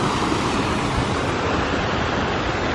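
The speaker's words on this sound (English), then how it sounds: "a fountain right here that's really beautiful and making lots of nice pretty noise" A fountain and waterfall at a hotel pond give off a dense, steady rush of splashing water, loud and close, unbroken throughout with no voices over it.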